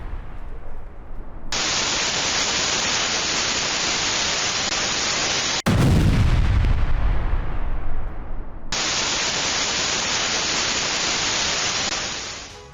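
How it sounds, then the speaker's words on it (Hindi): A bombing blast outside an apartment building, seen in news footage from the Russia-Ukraine war: steady static hiss breaks into one sudden loud explosion with a deep rumbling tail, then the hiss returns. "अपने अपार्टमेंट से जैसे ही वो बाहर निकलते हैं, वैसे ही ये धमाका होता है"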